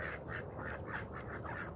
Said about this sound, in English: Hey, what's going on, ducks?